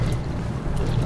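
A fishing boat motor idles in open water, a steady low rumble with wind buffeting the microphone and no pauses.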